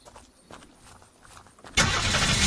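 A fire truck in the zombie survival game Unturned starts up: after quiet shuffling steps, the engine catches abruptly and roars into a loud, steady run that continues to the end.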